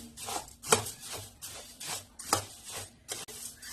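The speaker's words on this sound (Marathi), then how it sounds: "आता हे मुरमुरे आपले कडक बनवण्यासाठी आपल्याला थोडे भाजून घ्यायचे" Puffed rice dry-roasting in a pan as it is stirred, repeated dry rustling sweeps with sharp scraping clicks of the spoon against the metal, close and rhythmic, without speech.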